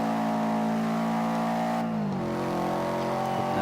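Racing car engine in Forza 5 roars loudly under steady throttle, then drops pitch through a quick double downshift with a blip of revs before pulling on in a lower gear; no voices.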